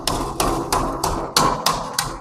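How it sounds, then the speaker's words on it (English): Seven sharp metallic hammer blows ring out at a steady rhythm, each a bright clang on sheet metal with a short decaying ring, close by, as a hammer knocks down a Pittsburgh lock seam. "You're going to come back with a hammer."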